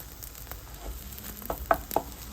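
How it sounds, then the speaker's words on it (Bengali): An egg fries in a pan on a home stove, giving a faint, continuous sizzle with a few sharper pops and crackles near the end. "আপাতত ডিমটা ভাজি করে নিই।"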